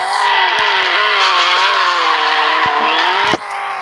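A BMW drifting in the Extreme Car Driving Simulator game gives a continuous tire squeal over a high revving engine whine whose pitch wavers as it slides. A few clicks sound, and the squeal drops abruptly near the end.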